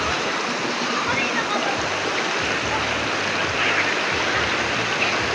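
Strong rushing stream water pours steadily and loudly through a creek on a rainy morning, a dense, unbroken roar that fills the scene from start to finish.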